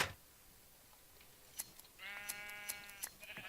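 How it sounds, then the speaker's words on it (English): Sheep in a blocky Minecraft-style game bleat several times, with short wavering cries in quick succession over a quiet background and light clicking sounds. "Give me all your wool, sheep."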